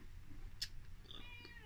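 A cat meows indoors, a couple of short, fairly faint cries over a low background hum.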